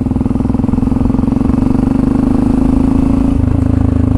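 A dirt bike engine runs steadily at a loud, close idle-like drone, with a low throbbing pulse throughout and a slight change in tone near the end.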